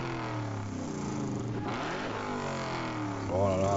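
A 1967 Chevy Nova engine in the Gran Turismo Sport racing game revs with a steady, loud burbling drone throughout, rising into a sharper climbing rev near the end.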